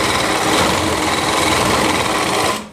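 A sewing machine running fast and steady, stitching lehenga panels for a Rajputi suit, a continuous close whirring hum that stops abruptly at the end.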